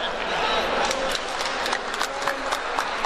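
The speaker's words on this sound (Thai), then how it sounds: "เรียกเสียงปรบมือจากนักเตะครอบทีมหญิงของฟิลิปปินส์ได้" At a sepak takraw match between the Philippines and Thailand, the Philippine women's team breaks into a burst of applause, a dense wash of clapping that fades slightly and carries a few sharper claps.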